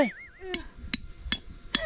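Tent stakes are hammered in at a campsite in Khao Yai, with four sharp, evenly spaced metallic strikes following a brief whistle-like tone.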